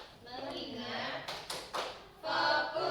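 Several short hand claps from a class doing the 'tepuk fokus' routine during a microteaching session land in quick succession, interleaved with a teacher speaking up close.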